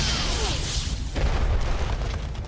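A Missile Barrage attack in Costume Quest sets off a deep, rumbling boom with hissing bursts that roll on for a couple of seconds, loud and close.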